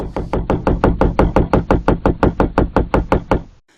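Fifteen rapid, evenly spaced knocks on the side of a camper van, loud and close with a steady hard rhythm, stopping abruptly near the end.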